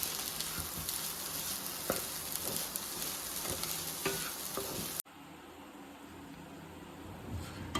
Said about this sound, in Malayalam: ഇതിൽ കിടന്ന് തന്നെ വഴറ്റി കൊടുത്തിട്ട് വേണം ഇത് വേവാനായിട്ട്.